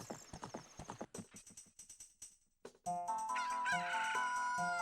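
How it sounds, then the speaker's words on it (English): In Zelda: Ocarina of Time, a run of rhythmic hoof clops with a pause gives way to a loud, drawn-out rooster-like crow from a blue bird, electronic and clear with no voices. "Did you hear that? That crowing? It's not from the Sun Song. It's from that blue bird we got"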